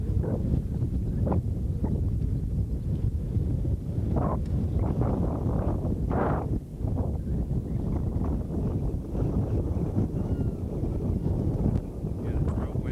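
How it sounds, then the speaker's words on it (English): Strong gusting wind at a lakeside lodge in Montana's Glacier area buffets the microphone with a constant low roar, with faint voices and scattered knocks underneath. "it's real windy, and that's the sound you're hearing."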